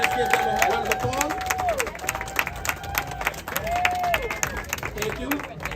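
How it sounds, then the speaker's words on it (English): Crowd clapping and some cheering at a political rally in the Bronx, moderately loud and steady, with a few whistles and scattered voices in the background. "Let's give them a round of applause."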